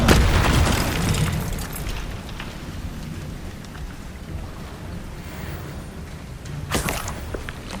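A loud Bombarda explosion spell from Hogwarts Legacy booms right at the start and rolls into a long rumbling, crackling decay. A smaller burst follows near the end.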